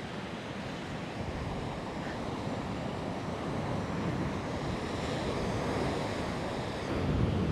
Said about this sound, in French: C'est des vagues, hein.